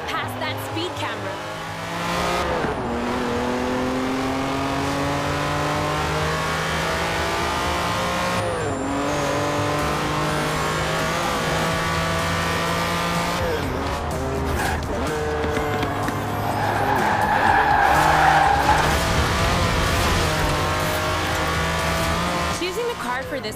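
Lamborghini Countach LP5000 QV racing in Forza Horizon, its engine droning and revving steadily through gear changes, with a burst of tire squeal partway through, loud and close throughout.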